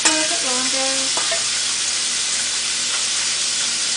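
Stuffed French toast with chicken fries on a hot griddle, giving a steady, close, loud sizzle and hiss that lasts throughout, with a few brief clinks and scraping stirs early on and no talking.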